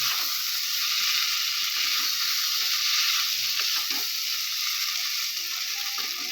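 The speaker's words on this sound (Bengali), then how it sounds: "শুকনো মশলার গুঁড়ো আমি অর্ধেকটা এর ভেতরে দিয়ে দিচ্ছি, অর্ধেকের একটু বেশি দিচ্ছি, দিয়ে একসাথে ভালো করে মিশিয়ে নিচ্ছি" Ground dry spice powder being stirred into chicken frying in a pan, a steady bright sizzle with soft scraping and stirring sounds throughout, close and continuous with no talking.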